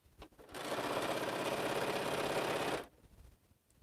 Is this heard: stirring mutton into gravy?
no